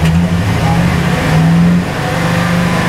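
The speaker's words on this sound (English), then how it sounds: "Let's go ahead and see if we can rev this engine and get it to misfire." A 2009 Chevy Silverado engine with a cylinder 4 misfire revs steadily up close, a loud continuous mid-pitched drone that holds through nearly three seconds with a slight drop near the end.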